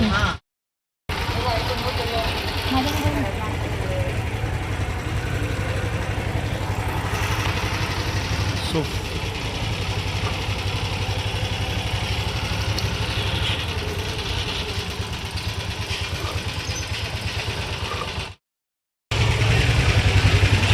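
A motor boat engine pulling away at a floating market, heard up close as a loud, steady droning rumble that runs almost without a break, with voices talking over it.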